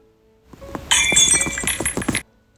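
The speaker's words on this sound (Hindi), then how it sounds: "कांच टूटने की आवाज़ सुनकर वो अपने प्रेजेंट में लौट आई।" Glass shatters sharply and close, a bright crash followed by a second or so of tinkling, clinking shards settling before silence.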